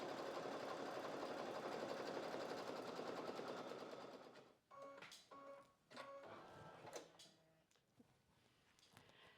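A Brother embroidery machine stitches a name onto a vinyl keychain, its steady rapid needle chatter running loud and continuous for about four seconds, then breaking into short stop-start bursts of stitching.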